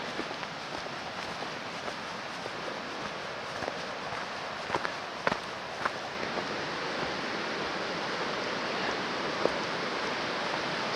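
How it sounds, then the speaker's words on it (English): Mild white-water rapids beside a hiking track on Mt Lofty make a steady, soft rushing wash, with a few faint footstep-like taps. "you can hear a little bit of white water."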